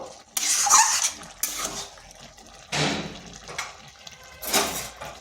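Boiled chana dal is mashed and stirred into a bottle gourd curry in a pan, several wet squelching, scraping strokes of a spoon against metal, close and moderately loud with pauses between, no talk.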